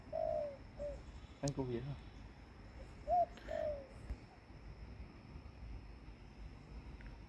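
A pigeon perched on a fence gives a few soft coos, faint and nearby in a quiet outdoor spot, with brief conversation and a sharp click in between.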